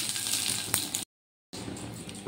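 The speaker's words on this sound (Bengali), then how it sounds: "এবার এগুলো একটু ভাজা ভাজা করে নিচ্ছি" Mustard seeds, green chillies and curry leaves fry in hot oil, a steady close sizzle with a brief crackle, cut by a half-second gap of silence before the sizzling resumes.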